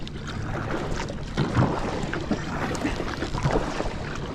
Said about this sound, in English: I'm doing the same paddle stroke and I'm going straight.